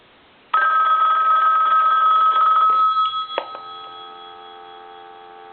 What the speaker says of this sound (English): We're going to do a ring on it again. Let that go one more time.